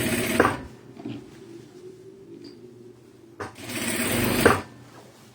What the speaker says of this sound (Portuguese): eu faço uns 2, 3 pontos de retrocesso, tá?